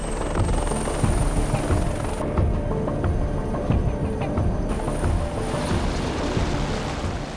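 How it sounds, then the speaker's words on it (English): A military helicopter launches from a warship at sea, its loud, continuous rotor thrum and turbine whine dominating with wind and water noise around it and no voices. "The advantage of the helicopter is range"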